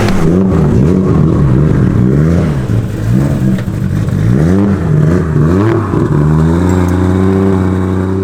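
A Nissan R32 Skyline engine revs loud and close, its pitch climbing and falling through several throttle blips before settling into a steady high idle.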